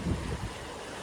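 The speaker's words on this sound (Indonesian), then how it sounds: "Lihat ombaknya, wah, indah sekali." Sea waves wash onto a quiet beach at Pantai Alfa Momong near Banda Aceh, Aceh Besar, as a brief, steady broadband rush with a slightly stronger surge at the start and no voices.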